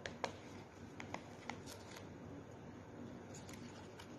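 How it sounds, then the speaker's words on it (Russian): Paper pages of a handmade origami book are folded along hill and valley creases, giving soft, repeated papery crackles and crisp taps at irregular intervals over a low, steady hiss. "А здесь мы просто складываем странички."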